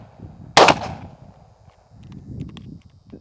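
Hi-Point YC9 pistol fired once outdoors, a single sharp close report followed by faint clatter and shuffling movement.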